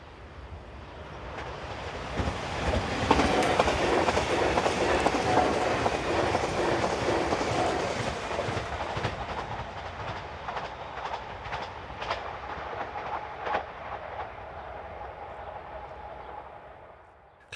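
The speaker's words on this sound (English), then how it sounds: "Some of the local trains seen on the route are operated by Class 1415 units built by Stadler." A Stadler-built Class 1415 local train, unit 105 leading a second unit westbound, rumbles past close by. The broad roar swells in quickly, holds with rail clatter and a few sharp clicks, then slowly fades as it moves away.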